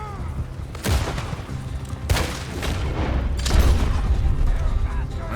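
Gunfire in Red Dead Redemption 2 during a Chapter 3 Clemens Point shootout. Several sharp, loud shots crack at uneven intervals over a busy, rumbling background, with voices shouting in between.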